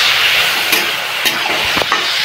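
Cluster beans (gavar pods) being sautéed in a pan, a constant close sizzle broken by a few sharp stirring scrapes and clatters, no talking.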